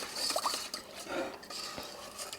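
A silicone whisk scrapes a cornstarch mixture for a vanilla cream pie filling off the sides of a bowl, giving soft, quiet scraping and stirring strokes with light clinks against the bowl.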